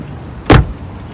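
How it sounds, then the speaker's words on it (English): A single car door slams shut in a store parking lot, one sharp solid thud close by against quiet outdoor background. "I'm gonna close the door."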